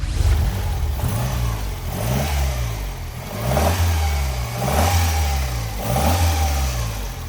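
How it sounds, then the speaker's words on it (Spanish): A 1963 Peugeot 403 with a 1500 cc, 58-horsepower engine runs close by, revving up and down in repeated waves over a steady mechanical hum. "El motor del 403. Motor de 1500 centímetros cúbicos, 58 caballos a unas 4800 revoluciones."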